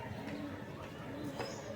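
An imported-bloodline teddy pigeon cooing softly and close by, a low murmuring coo under steady background hum.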